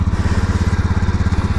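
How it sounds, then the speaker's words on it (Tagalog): A Honda Beat scooter engine runs at a steady idle, close and loud, with an even rapid pulsing throb and no talk. "Ayan, naka-andar na itong Honda Beat."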